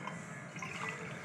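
Ashwagandha drink, plain water-based rather than milk, being poured back and forth between vessels to cool it, giving a steady close liquid splashing and trickling stream throughout, with no talk.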